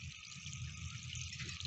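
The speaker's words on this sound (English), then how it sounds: "all we doing is just draining it since you got to replace it, make it lighter" A hot water heater being drained ahead of its replacement gives off a steady rushing, trickling flow of water that holds fairly even and close throughout, with no talking.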